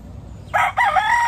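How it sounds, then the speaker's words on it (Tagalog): A rooster crows close by in a short, loud burst among a flock of chickens, set against a quiet background. "Daming manok."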